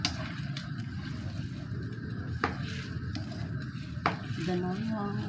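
Mung beans hitting a hot pan, with steady sizzling and frying under continuous stirring, a few sharp utensil clinks against the pan, and a brief voice near the end.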